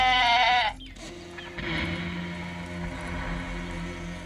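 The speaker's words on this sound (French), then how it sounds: "Mais à qui appartient cette chèvre?" A goat bleats loudly and close for under a second with a wavering cry, then a busy indoor or street scene continues with mixed background noise and no further clear calls.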